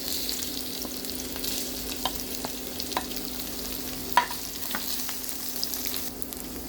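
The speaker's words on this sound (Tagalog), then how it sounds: "Now let's add our sliced onion." Sliced onion frying in a pan with garlic for fish escabeche, giving a steady close sizzle with a few light clicks from stirring and no talking.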